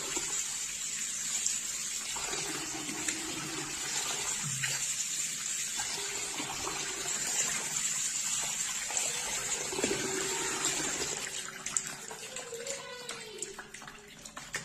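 Food is washed by hand in running water, with a continuous gushing flow and occasional splashes and sloshes, and a voice is faintly heard beneath.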